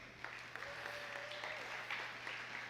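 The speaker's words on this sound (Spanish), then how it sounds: "Dar un aplauso a Jesús." Faint, steady applause from a church congregation during a Sunday service, a soft continuous patter of many hands clapping in the distance.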